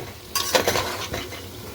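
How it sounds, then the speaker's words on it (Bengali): Potatoes frying in oil in a pot, heard as a short burst of stirring scrapes over a soft sizzle, close and fairly quiet. "আলুটা এখানে ভাজা হোক"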